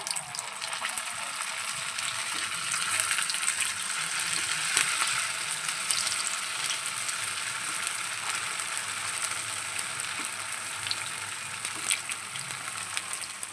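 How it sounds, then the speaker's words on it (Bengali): Semolina and potato snack pieces frying in a pan of hot oil, a steady close sizzle with soft bubbling and occasional crackles throughout, no voices. "ভাজা করে নিলাম"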